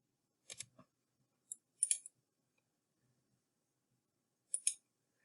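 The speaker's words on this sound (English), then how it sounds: "I'm just going to hit delete on the keyboard." Delete key pressed on a computer keyboard during CNC toolpath editing in VCarve Pro, giving a few sharp, quiet clicks in separate short bursts, close by and with no talk.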